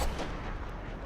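A sniper rifle fires in the Destiny video game: one heavy, booming shot at the start that fades into a long rolling rumble, loud and alone.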